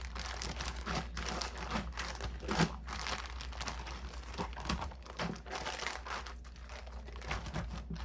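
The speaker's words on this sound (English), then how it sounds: "I'm going to zip it up and I'm going to shake it." Chicken pieces are shaken inside a zip-up plastic bag for coating, giving a close, continuous crinkling and rustling of plastic with soft thumps of meat tumbling inside.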